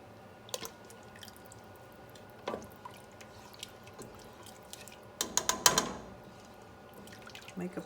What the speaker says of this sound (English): I'm going to add a 1/3 cup of heavy whipping cream.